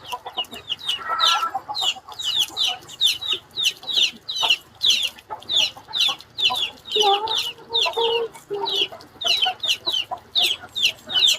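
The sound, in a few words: chickens clucking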